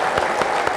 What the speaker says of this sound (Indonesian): tepuk tangan lagi buat Mas Eko